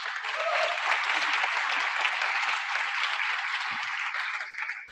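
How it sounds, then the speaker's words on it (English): A conference audience applauds in a dense, steady burst of clapping that stays loud and even for the full five seconds before easing slightly at the end. "So for those of you who are part of the administrative and professional organization, would you applaud,"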